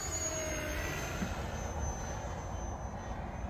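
An Arrows RC Bearcat model plane running on a 4S battery makes a high-speed pass, its faint, steady electric motor whine sustained at a distance with no talking.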